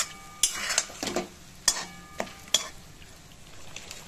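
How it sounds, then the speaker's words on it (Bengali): Fish heads being stir-fried in a pan for a Bengali pumpkin curry, with a low steady sizzle broken by several sharp clinks and scrapes of a spatula against the pan, close and moderately loud, with no talk. "মাছের মাথাটা দিয়ে আমি 1 মিনিট কষিয়ে নেব"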